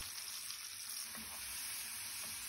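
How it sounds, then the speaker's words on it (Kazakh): Champignon mushrooms with salt and pepper fry in a hot pan for a chicken and mushroom cheese soup, giving a steady, even sizzle with faint crackles throughout and no voices. "Қызып тұрған табада шампиньондарымызды тұз, бұрыш салып, жақсылап қызартып қуырып аламыз."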